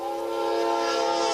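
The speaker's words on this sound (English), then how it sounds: "police video captured a train collision with a Platteville police unit parked on the tracks." A train sounds its horn at a crossing in Platteville, Colorado, where a police car sits parked on the tracks, a sustained tonal blast that swells slightly in loudness with a rushing rail noise underneath.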